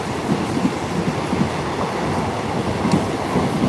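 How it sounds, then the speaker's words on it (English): A long-distance passenger train riding on rails, a steady rumble with faint rhythmic clicking of wheels over track joints, continuous and fairly loud with no talking. "I've been on the train for, let's see, 8:30,"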